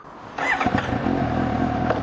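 A Suzuki GSX-S750 four-cylinder roadster motorcycle engine picks up from a low idle into a louder, smooth revving drone, close and steady.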